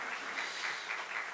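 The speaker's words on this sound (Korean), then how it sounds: "우리 박수를 한번 격려해 주시죠." A church congregation applauds during a Sunday morning worship service, a soft, even wash of clapping heard faintly from a distance for just over a second.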